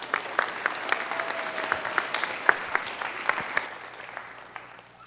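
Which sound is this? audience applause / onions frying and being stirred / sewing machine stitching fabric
audience applause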